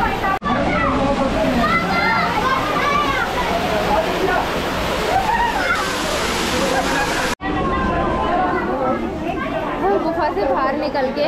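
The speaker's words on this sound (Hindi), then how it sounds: "यहाँ पर ही ऐसे झरना बह रहा है और लोग बाग नहा रहे हैं" Waterfall pouring inside Robber's Cave (Guchu Pani) in Dehradun, Uttarakhand, where people bathe: a steady, loud rush of water echoing in the cave, mixed with constant crowd chatter and splashing throughout.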